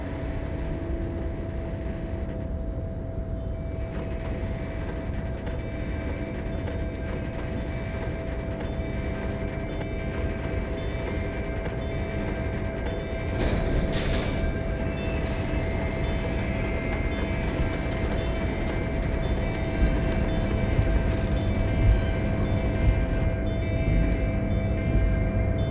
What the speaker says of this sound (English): With a loud grind, the crane shifts overhead, moving a massive metal container through the air.